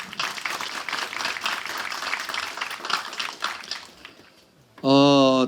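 An audience claps for a speaker being welcomed onto the stage at an agricultural showcase event. The applause sits under an announcer's voice, fades, and then a short electronic tone sounds.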